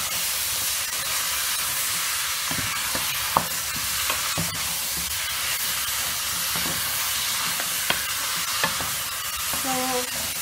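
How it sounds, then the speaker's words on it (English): Beef masala meat stirred and frying in a pan, a continuous bright sizzle with scattered clicks and scrapes of the spoon, close and steady. "So I'll stir the meat"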